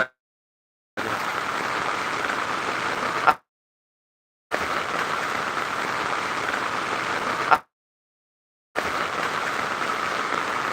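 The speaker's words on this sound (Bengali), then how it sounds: "প্রচণ্ড বৃষ্টি হচ্ছে" Heavy rain falling in a village home setting in rural Netrokona, a dense continuous roar of rainfall coming in bursts that cut out to silence in between, fairly loud and steady with no talking.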